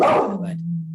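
A dog from next door lets out one loud, close bark that trails into a short whine.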